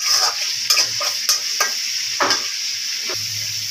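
Chopped onions stir-fry in oil in a large kadai, with a steady sizzle broken by repeated scraping and clattering strokes of a spatula, close and loud.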